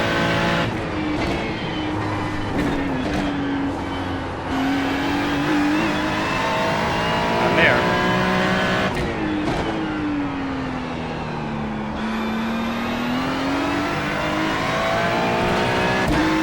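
A GT3 race car in the iRacing sim, engine droning loud and steady with rising and falling pitch through gear changes across the lap, close and continuous with no talk.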